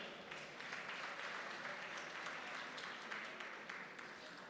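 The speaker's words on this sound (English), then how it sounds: "another round of applause" Audience applause at a school governing body imbizo, steady and fairly distant, with a dense patter of clapping that continues throughout.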